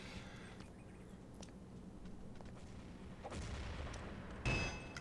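A grenade blast in a team shooter game at a quarter-final match, a single sharp boom near the end over steady background gunfire and game noise.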